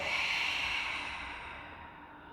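A long, breathy exhale during a Pilates exercise on a Swiss ball, a soft, steady rush of air close to the microphone that slowly fades over a couple of seconds.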